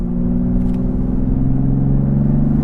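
A BMW X3M F87 Competition accelerates hard in 5th gear on the autobahn, its engine droning loud and steady with a rising tone under the road rumble.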